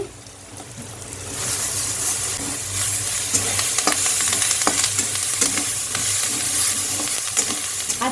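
Neem leaves and eggplant sizzle loudly in hot oil in a pan, a dense continuous frying hiss with occasional scraping clicks as the pieces are moved about.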